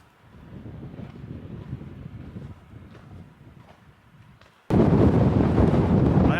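Wind sweeps across a mountain trail on the Pacific Crest Trail descending toward a valley, a steady moderate rush that suddenly bursts into loud, close buffeting against the microphone for the final two seconds.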